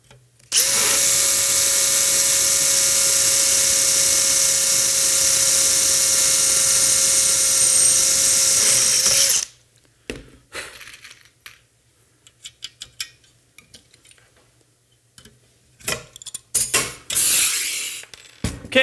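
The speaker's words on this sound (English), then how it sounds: "We're going to drill this hole, but we're not going to put anything in it right now." A power drill bores a rivet hole during a launcher assembly, running as one loud, steady, high whine for about nine seconds before stopping, followed by quieter scattered clicks and handling noises.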